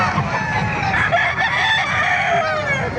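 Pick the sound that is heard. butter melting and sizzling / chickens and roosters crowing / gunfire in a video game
chickens and roosters crowing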